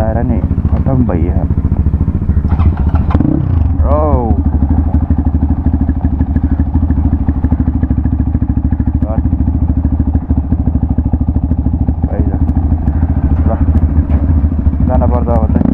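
A motorcycle fitted with a double silencer runs loud and close, its deep throbbing exhaust rumble steady throughout with occasional revs and clattering, while someone talks over it.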